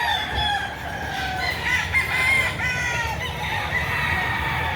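At a chicken sale in Lipa, Batangas, a rooster crows repeatedly among clucking chickens, drawn-out calls rising over a constant close barnyard din.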